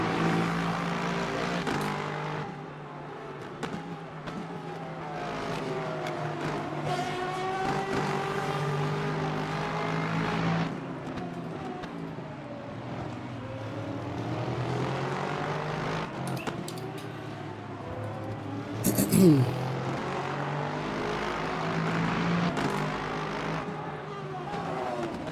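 Hypercar engines race around Interlagos in the sim racing game Le Mans Ultimate, a continuous rising and falling engine whine through gear changes, moderately loud and steady throughout.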